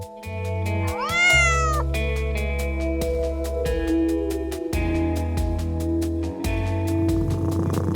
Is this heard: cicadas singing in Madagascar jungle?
no